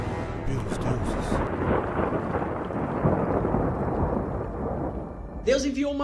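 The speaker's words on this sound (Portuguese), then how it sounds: "Deus enviou uma violenta tempestade no mar." A violent thunderstorm at sea: deep rolling thunder rumbles continuously over heavy, steady rain, loud and close, with a brief higher sound near the end.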